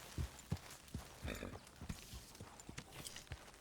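Horse hooves clip-clop at a walk in Red Dead Redemption 2, a steady run of soft, fairly close hoof falls over faint ambient background sound.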